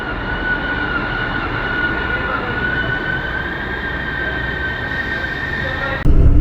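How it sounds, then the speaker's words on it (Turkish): A train bound for Füssen, in Bavaria, rolls into the station with a steady rumbling roar and a sustained mechanical whine, loud and close, ending with a sudden louder burst. "Ve Füssen trenimiz geldi."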